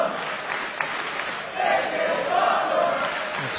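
A large arena crowd at a Lucha Libre wrestling match roars and cheers continuously, swelling louder midway, with a dense, distant wash of voices throughout.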